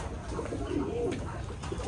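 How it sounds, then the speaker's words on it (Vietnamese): Soft, low cooing of a Thai Titan meat pigeon rolls through the short clip, a steady murmuring call over a faint background hum. "Đây là bồ câu titan xương thịt của Thái nha mọi người."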